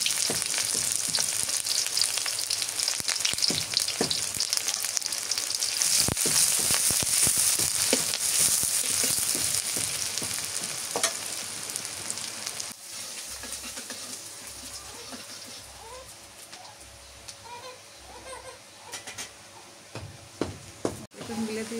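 Chopped onion fries in a pan with a loud, dense sizzle and crackle that eases into a softer, steadier fry. Stirring knocks and clatters come through, and someone talks faintly in the background.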